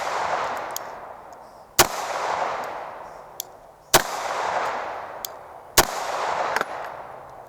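Three sharp, loud 9mm shots from a CZ 75 Tactical pistol at an outdoor range, spaced about two seconds apart, each followed by a long echoing decay, with fainter distant shots from other shooters between them.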